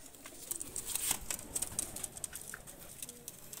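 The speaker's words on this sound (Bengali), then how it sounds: "কবুতর দুটো ছেড়ে দেখাচ্ছি আমি।" A pair of breeding pigeons, male and female, just released, giving soft cooing with light flutters and rustles, close and fairly faint, with no talk.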